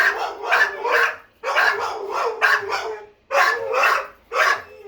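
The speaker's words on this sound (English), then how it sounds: "Dogs." Bursts of barking from dogs in quick clusters with brief pauses between, loud and close, some sharper yips mixed in.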